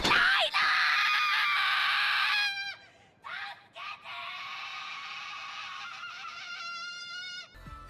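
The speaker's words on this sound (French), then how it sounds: "il suffit juste de voir les cris de détresse ou de rage de Gabi qui sont tous déchirants" Gabi, a young girl in the Attack on Titan final season, screams in distress and rage with long, loud, raw cries broken by a few short gasps and pauses, one after another.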